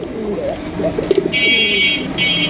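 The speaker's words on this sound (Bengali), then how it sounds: "চমৎকার একজোড়া কালারিং রাজগোল্লা কবুতর দিয়ে আকাশি কালারের মধ্যে ফাটাফাটি কালেকশন ডাকটা শোনেন" A pair of sky-blue Rajgolla pigeons coo nearby in a few soft, throaty bursts, with steady faint background hum and a thin high ringing tone entering partway through.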